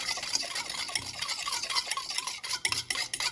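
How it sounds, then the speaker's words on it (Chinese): Spoon scraping and clinking in a bowl as a rice cake seasoning mix of light soy sauce, chicken bouillon, salt, starch and warm water is stirred, a steady close run of rapid scrapes and taps with no voices. "然后给它搅拌均匀"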